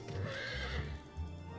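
A horse whinnies in Final Fantasy XIV Online, a short shaky neigh with some low hoof thuds beneath it.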